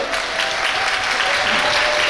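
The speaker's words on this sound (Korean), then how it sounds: "여러분 박수 한번 보내주시죠" Audience applause at a ceremony appointing NewJeans as honorary Korean tourism ambassadors, a steady dense wash of clapping held at even loudness throughout, with a faint tonal hum beneath.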